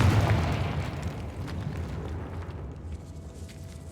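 A Confringo blasting spell goes off in Hogwarts Legacy, one heavy booming explosion that starts loud and rumbles away over a few seconds with no other sound.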